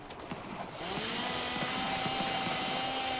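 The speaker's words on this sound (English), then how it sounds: "Just to hear the chainsaw noises." A Ripper chainsaw weapon in Fallout 4 revs up to a steady, loud mechanical whine that holds continuously, with a rumbling engine drone underneath and a few choppy bursts as it cuts against surfaces.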